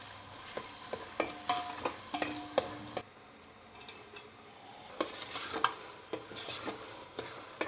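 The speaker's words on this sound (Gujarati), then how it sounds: "જીરાથી વઘાર કરશું હવે બંને ડુંગળી નાખશું" Onions sizzle in hot butter and oil with cumin as a utensil stirs and scrapes the pan in bursts, the frying hiss quieter between strokes, for Mumbai-style pav bhaji.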